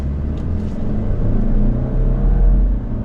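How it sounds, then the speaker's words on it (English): A 2024 Subaru Legacy Sport's turbocharged engine accelerates, giving a steady low rumbling drone that swells slightly as it pulls, heard from inside the car with no talking. "Those turbos kick in, and down the road we go."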